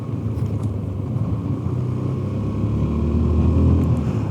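A Zontes 368G motorcycle engine with throttle-by-wire rumbles steadily up close, its low drone swelling slightly as the throttle opens, with no talking.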